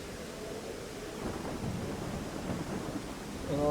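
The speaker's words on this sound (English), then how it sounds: "they just love their last levels to be raining?" Rain and a low thunder rumble in the final level of the video game ICO, a steady hiss of rainfall with rolling thunder swelling midway and again at the end, no voices.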